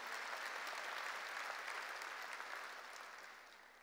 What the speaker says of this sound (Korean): 박수로 하나님께 영광 돌리라는 거예요